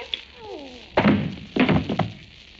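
Two heavy blows from the butt of a gun strike a person in an old-time radio drama, landing as close, dull thunks about half a second apart after a brief quiet, thin whistle-like tone.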